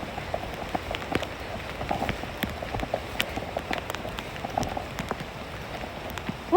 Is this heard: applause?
no